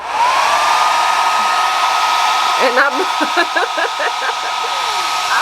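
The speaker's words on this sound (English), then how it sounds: "So, you know, I get my blow dryer and" A handheld blow dryer runs steadily at close range for the whole stretch, a loud constant whine and rush of air, with someone talking over it partway through while working on her lashes and makeup.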